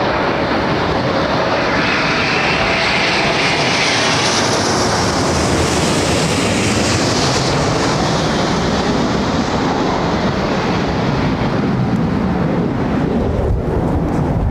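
A Delta Airbus Neo jet passes at London Heathrow Airport with a loud, sustained engine roar and broadband rush that swells and slowly fades across the whole stretch, heard alone without voices.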